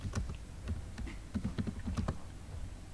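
Typing on a computer keyboard, a quick irregular run of close, crisp key clicks and taps with short pauses between bursts.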